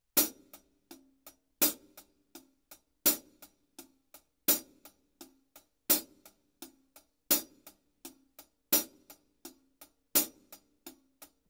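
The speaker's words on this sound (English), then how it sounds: "So, only the hi-hat sounds like this." A hi-hat plays a steady run of quick, even strokes, with a sharp louder accent recurring at regular intervals and softer taps in between.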